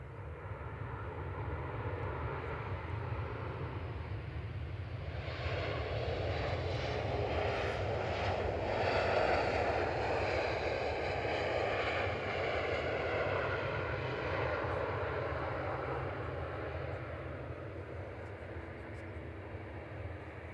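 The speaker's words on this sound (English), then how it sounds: "It's Ryanair from Mahon, 737-800 EIEVO, saw that go over earlier." A Ryanair Boeing 737-800 from Mahon passes over Manchester Airport, its jet engines roaring in a steady broad rumble that swells in the middle and slowly fades.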